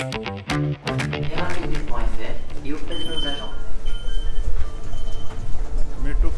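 Inside Gare du Nord in Paris, a train rumbles and squeals along the platform under steady station noise, with a high tonal whine and talking throughout.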